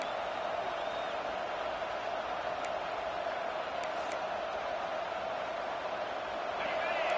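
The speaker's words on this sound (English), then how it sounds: "Listen to this crowd just shaking the girders of this place" A stadium crowd in a football video game keeps up a loud, steady roar with no letup, a dense wall of cheering noise that holds for the whole stretch.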